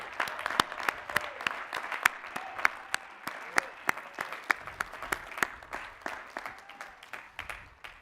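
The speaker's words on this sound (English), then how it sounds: "Let's give all of our graduates a hearty round of applause." A modest round of applause at a graduate commencement ceremony, with distinct, spaced hand claps from a small group, steady and moderately near, carrying on for several seconds.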